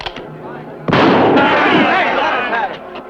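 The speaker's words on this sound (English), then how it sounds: "I'll try firing over their heads." A gunshot fired as a warning over a crowd's heads in an old-time Western radio drama, one sharp loud blast with a long ringing decay, preceded by faint murmuring voices.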